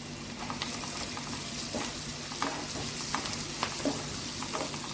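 Chicken with ginger paste and spices stirred in a pan, a soft continuous sizzle broken by repeated scraping strokes of the spoon, close and fairly quiet.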